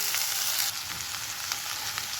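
Tempering with tomato and cabbage pieces sizzles steadily in a hot pan, a continuous close frying hiss with faint crackles and a slight drop in intensity partway through, no voices.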